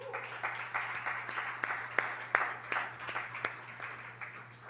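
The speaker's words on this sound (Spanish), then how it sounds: "Dile un aplauso al Señor" A congregation claps along at a church service, a steady broadband wash of applause with sharper individual claps standing out, moderately loud and continuing throughout with a low steady hum underneath.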